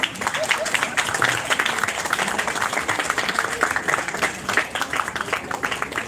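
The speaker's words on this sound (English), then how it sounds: "Everyone, please keep the applause going." Sustained applause and clapping from an audience at a team showcase event, dense and steady throughout, with faint voices mixed into the crowd noise.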